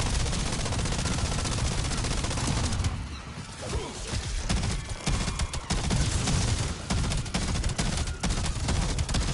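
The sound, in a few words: gunfire in Call of Duty Black Ops 7 Zombies, a video game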